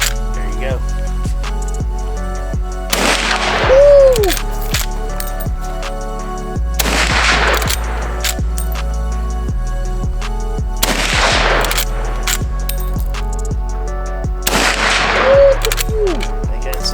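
Four heavy .45-70 rifle shots ring out at an outdoor shooting range, evenly spaced several seconds apart, each a loud boom with a trailing echo, and people talk between them.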